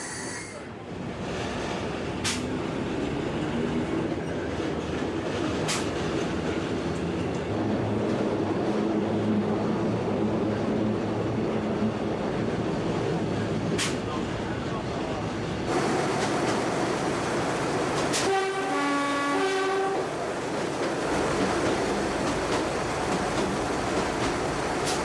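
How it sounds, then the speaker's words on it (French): A diesel railcar runs along the Regordane line, a steady rumbling roll that carries through the whole stretch with faint clicks, a few sharp knocks and a short horn-like tonal passage near the end. "Après le tunnel de Pendrigne, l'autorail bascule dans la descente."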